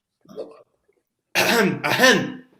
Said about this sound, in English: Oh, don't cough